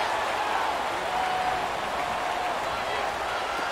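A Raiders home-game stadium crowd roars loudly and steadily throughout, a dense wash of cheering with no pauses.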